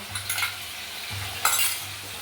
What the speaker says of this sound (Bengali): এটাকেও আবার 2 মিনিটের মতো কষতে থাকবো।